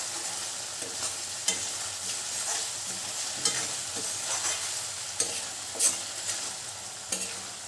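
Chopped tomatoes with a spoonful of salt frying in a pan while cooking chicken curry: a soft, steady sizzle with repeated light scrapes and clacks of a stirring spoon, no voices.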